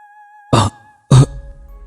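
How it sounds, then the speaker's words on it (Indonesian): Two sharp coughs, a brief pause between them, over a faint steady hum. "Kupukul dadaku refleks karena batuk."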